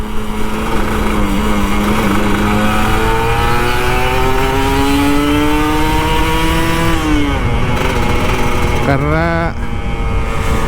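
A Kawasaki Ninja RR 150 two-stroke motorcycle engine is ridden, loud and steady, its pitch climbing gradually through a long pull before dropping sharply and revving again near the end, with wind noise throughout.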